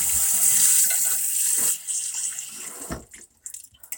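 Tap water runs steadily into a sink while fish remnants are rinsed off a dish, loud and continuous at first, then thinning into intermittent splashes and drips near the end.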